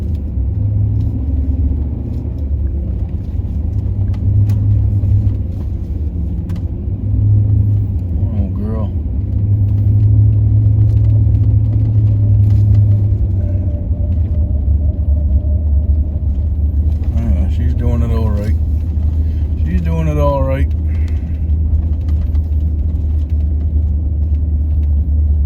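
A pickup truck in four-wheel drive climbs hilly rural ground with a steady low engine rumble and road noise throughout, with a few short squeaks and rattles near the end. Someone talks now and then over the drone.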